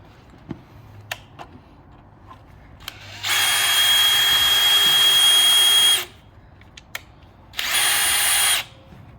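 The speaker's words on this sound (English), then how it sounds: "So first you drill a pilot hole, and this is required so that there is no tear in the plywood." A power drill whines steadily for about three seconds drilling a pilot hole in plywood, pauses briefly, then runs again in a shorter burst, with faint clicks and handling noises between.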